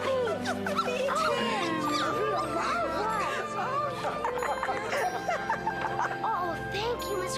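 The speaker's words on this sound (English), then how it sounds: "Whoa, a puppy!" Puppy whimpering and yipping nonstop in a rapid series of high, wavering squeals and yelps, close and loud, with a light jingling and people talking over it.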